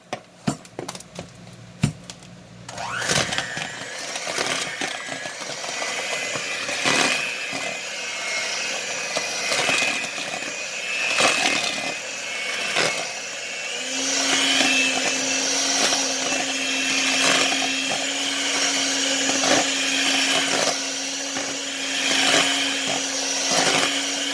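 An electric mixer creams light brown sugar for squash bread with a steady, loud whirring drone. Clattering bumps at the start give way to a continuous motor hum that holds for about twenty seconds.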